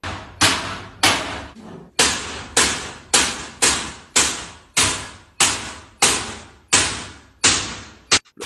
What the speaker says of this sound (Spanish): están viendo ahí es el momento del cual estaban queriendo tumbar la puerta